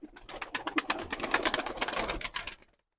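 Limon breed pigeons coo in a loft, a quick run of close, rhythmic throaty pulses that swells and then stops abruptly, with no talking.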